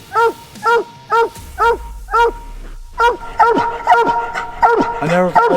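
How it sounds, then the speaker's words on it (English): Dogs at a rodeo setting barking loudly in a rapid even series of sharp barks, then a rougher mix of barks and yelps close by, with a voice talking briefly. "I never thought I'd see a dog fight"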